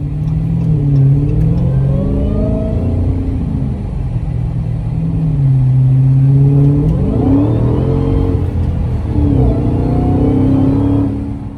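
A 2020 Dodge Challenger SRT Hellcat Widebody engine rumbles and builds, its pitch climbing through a couple of gear pulls, loud and close with a deep throaty growl.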